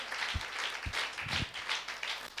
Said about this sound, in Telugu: ఒక్కసారి దేవుడు మనకి బయలుపరుస్తున్న విషయాన్ని బట్టి దేవుడు చప్పట్లు కొడదాం.